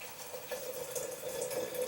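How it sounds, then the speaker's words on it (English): Hot water pours steadily into a tea infuser for steeping, a continuous close liquid stream with a bright gurgling tone that stays even and unbroken throughout. "You're going to want to pour that hot water in."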